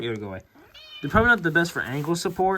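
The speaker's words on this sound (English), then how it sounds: "Oh, hey, that's my cat." A pet cat meows several times up close, its cries overlapping someone talking nearby.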